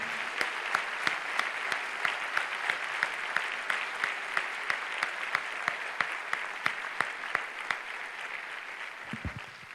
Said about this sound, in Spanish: Y si le va a aplaudir, apláudale al Señor.